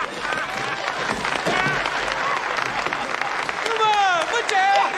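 A room full of people claps for a retiring chairman, a sustained roll of applause rising toward the end while someone shouts loudly over it.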